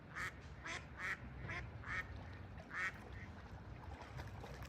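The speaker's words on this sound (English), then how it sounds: "Can you get those ducks?" Ducks defending their young quack repeatedly in loud, rhythmic bursts from close by, about six or seven calls over steady outdoor background noise.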